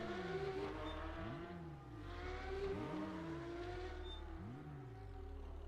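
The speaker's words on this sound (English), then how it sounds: "And the other cup cars sound great." Several Porsche Cup race car engines in the RaceRoom video game roar and rev continuously, pitches sweeping up and down as cars accelerate and shift, with a brief lull midway.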